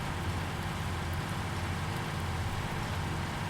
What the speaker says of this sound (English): how long is it going to rain for?